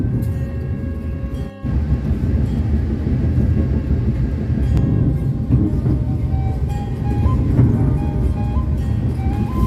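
Lodaya passenger train, heard from inside a carriage while running fast downhill on a steep descent, giving a loud continuous rumble with rattling and rail clatter throughout.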